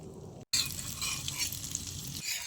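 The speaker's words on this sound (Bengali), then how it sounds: "হালকা আঁচে একটু সময় নিয়ে চেপে চেপে ভেজে নিতে হবে" Egg and eggplant fry in a pan over low heat while being pressed down, giving a steady close sizzle with a brief dropout near the start and no talk.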